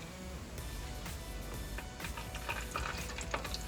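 Vegan paczki doughnuts fry in very hot oil, giving a faint, steady crackling sizzle with scattered pops and bubbling throughout, with no talk.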